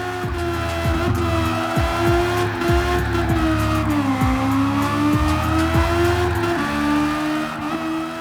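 Toyota Trueno Shingeno Widebody drift build sliding through corners in Gran Turismo 7, engine droning steadily at high revs while tyres squeal and skid almost continuously, loud and close with shifting pitch.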